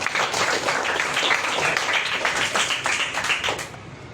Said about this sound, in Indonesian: tepuk tangan dulu sedikit